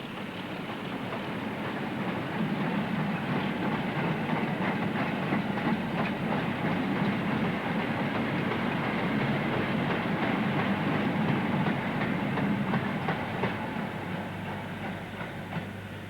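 A Class 26 diesel locomotive climbs toward Slough summit in Scotland with an evening freight train, a steady heavy rumble with continuous wheel and wagon clatter that stays loud throughout, no voices.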